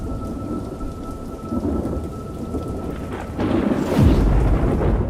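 Torrential rain pours down in a steady roar, with thunder rumbling and building toward a loud crack near the end.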